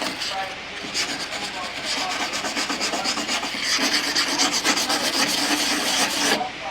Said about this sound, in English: See how that comes off pretty easy with a wire brush.